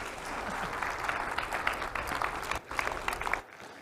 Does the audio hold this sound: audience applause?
yes